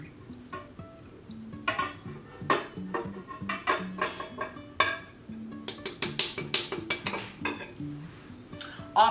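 Ingredients for keto cinnamon rolls made with lupin flour being tipped and scraped into a mixing bowl, a close run of clattering, clinking and scraping knocks of utensil against bowl, steady and busy throughout without talking.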